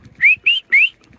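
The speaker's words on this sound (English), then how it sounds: "I'm attracting him with my special bag shake and whistle." Three short rising whistles from a person calling a swan, evenly spaced, each a bright sweeping note, with faint low rustling of a shaken bag in between.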